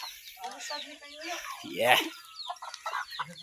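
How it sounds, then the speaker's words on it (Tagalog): Many chickens cluck around a mountainside village, a dense run of clucks and calls building to a louder burst near the middle, with a few people talking over them. "daming manok oh."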